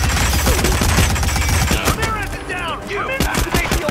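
Rapid gunfire bursts in the Hitman video game, loud and dense with overlapping shots and impacts throughout, with faint voices mixed in.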